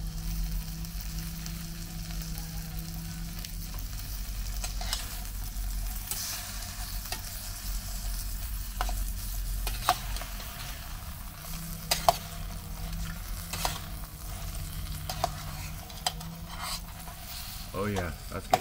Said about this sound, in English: And the other thing we're going to cook is some bacon. This is Canadian style bacon.